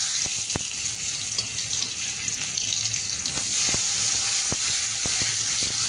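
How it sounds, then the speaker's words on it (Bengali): Fish frying in hot oil in a wok gives off a steady, loud sizzle and hiss, broken by scattered sharp pops and crackles. "কড়াইতে আবারও তেল দিয়ে দিয়েছি, আর বাকি যে মাছগুলো আছে মাছগুলো একটু ভেজে নেব এবার।"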